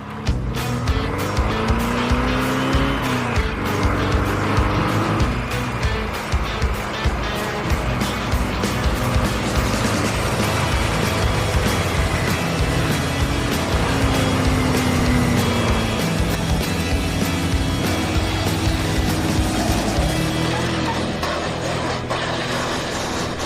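A dune buggy tears across sand dunes and rolls over, its engine revving and roaring loud and close, with scrabbling, tumbling noise and shifting pitch as the vehicle goes over.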